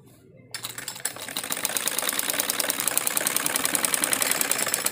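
Sewing machine stitching a topstitch along the waist belt of a school-uniform salwar, a steady rapid mechanical chatter that starts after a short quiet moment and runs loud and continuous, close up.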